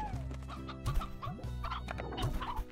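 Stone chickens in Slime Rancher clucking and squawking in quick, overlapping bursts, close and lively, with several birds calling at once over a soft game backdrop.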